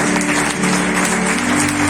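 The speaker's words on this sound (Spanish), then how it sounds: "Un aplauso a Jesucristo de Nazaret." Dense applause from a church congregation, steady and loud throughout, with a faint sustained tone underneath.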